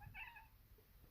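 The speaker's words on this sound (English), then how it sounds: "Oh, that's my cat." A house cat gives a single short meow, faint and close by in a quiet room.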